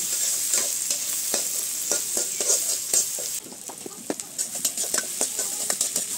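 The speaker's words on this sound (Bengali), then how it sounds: "তেলের মধ্যে আরেকটু তেল দিয়ে আমি এখন মাছটাকে ভুনা করার জন্য পেঁয়াজ কাঁচামরিচ দিয়ে দিলাম।" Fish with onions and green chilies frying in hot oil in a pan, a steady sizzle throughout with sharp scraping stirs and utensil clinks, close and alone.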